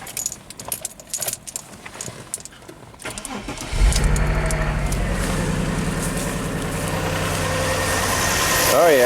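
An Audi A6 wagon with a misfire: keys jangle, then the engine cranks and catches at about four seconds, settling into a loud, close idle with an uneven, stumbling pulse.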